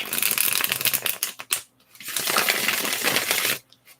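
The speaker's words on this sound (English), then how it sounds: "while I shuffle the cards." Playing cards are shuffled close up in dense, crisp riffling bursts, one long run, a brief pause, then another sustained shuffle before stopping.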